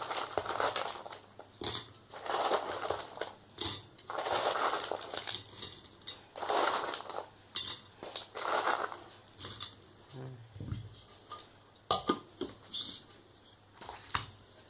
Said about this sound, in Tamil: இதை மிக்சியில் போட்டு பொடி பண்ணிக்கலாம்.